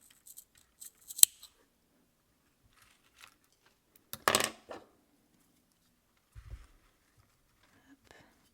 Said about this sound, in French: Donc, je coupe quasiment à ras.